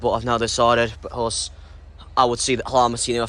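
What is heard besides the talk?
No distinct noise like a dog, phone or traffic.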